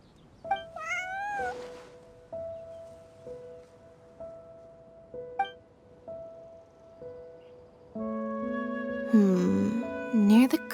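Cat meowing in the Genshin Impact video game, several short meows spread across the clip with game music underneath, ending in a louder drawn-out caterwaul over sustained tones.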